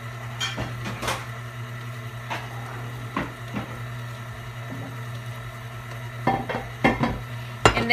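Ingredients for homemade protein bars, thinned with a splash of unsweetened almond milk, being stirred in a bowl: scattered scrapes and clinks of a utensil against the bowl over a steady low hum, with a few louder knocks near the end.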